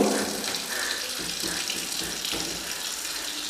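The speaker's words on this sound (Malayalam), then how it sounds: "വെള്ളം എടുത്തിട്ട് ഇങ്ങനെ ഒഴിക്കുകയാണ്" Water poured by hand onto a lacquered glass counter in a budget modular kitchen, a steady close splashing wash that runs continuously without pause and with no voices.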